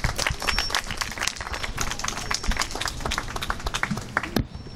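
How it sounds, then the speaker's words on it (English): An audience applauds a poet walking up to the mic at a live reading: dense, steady clapping at close range that fills the whole stretch, with a few sharper claps and a brief dip near the end. "Give Mario Willis a big round of applause."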